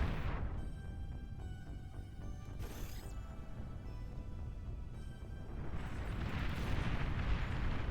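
Buildings explode as a base is destroyed in the strategy game Beyond All Reason, a dense rumbling roar of overlapping blasts and crackling bursts running throughout, with a sharp bang near the middle.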